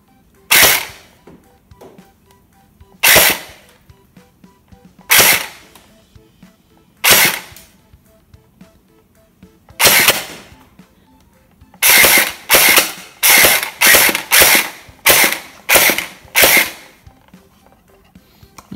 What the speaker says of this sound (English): So I'm going to shoot this using a gel.